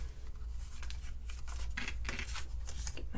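Paper is cut by hand for a handmade wedding or birthday card, giving a run of crisp snipping and rustling bursts close to the mic, with a low steady hum underneath and no talking.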